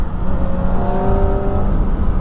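A Kawasaki Ninja ZX-4R sport motorcycle engine screams steadily with rising whining tones, loud and close, over a constant roar.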